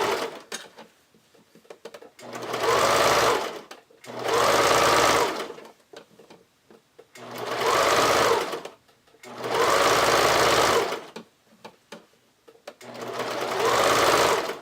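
A sewing machine runs a zigzag stitch along elastic in five even bursts of steady whirring, each lasting about two seconds and separated by brief quiet pauses with small clicks and handling noises.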